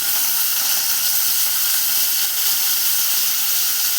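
Green chillies fry in hot oil in a pan, giving a loud, steady, close hiss of sizzling that holds evenly throughout without pauses.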